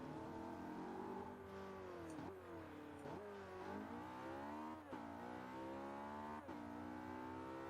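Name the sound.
French car engine accelerating in video game Forza Horizon 2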